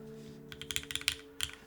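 Typing on a Winter TKL R2 mechanical keyboard: a quick close run of about a dozen crisp clacking keystrokes, a brief pause, then a few more, over a faint steady hum.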